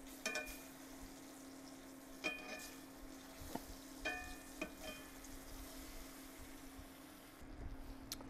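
Beef short ribs sear in a hot pan, a steady low sizzle running throughout with a few sharp clanks and taps of tongs or utensils against the pan.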